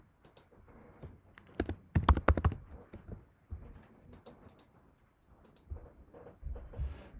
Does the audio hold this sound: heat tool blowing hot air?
no